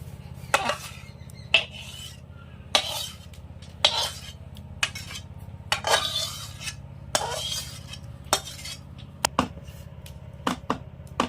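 A spoon spreads a sweet grape sandesh mixture across a plate, giving repeated short clinks and scrapes of metal on the plate at an irregular rhythm, close and fairly soft.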